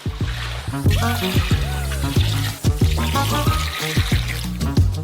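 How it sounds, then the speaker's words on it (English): Liter of water poured into a basin of sugar, a near trickling, splashing pour with some clinks, heard over background music. "Also pour in 1 liter of water."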